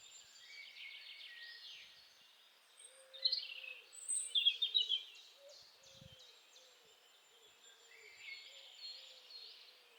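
Birds chirp and trill outdoors beside a pond, faint at first, with a brighter burst of song midway and softer calls toward the end.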